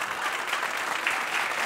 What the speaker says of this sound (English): Why not? Why not applaud?